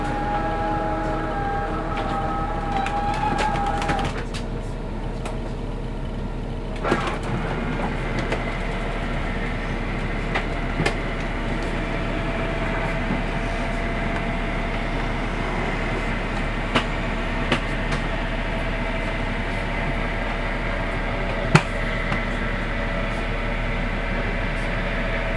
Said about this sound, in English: That squeaking you hear are the seals.